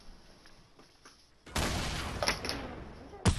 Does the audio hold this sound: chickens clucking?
no